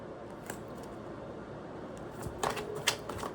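A short run of quiet, papery card flicks over a soft background hiss, growing busier toward the end with a few sharper snaps.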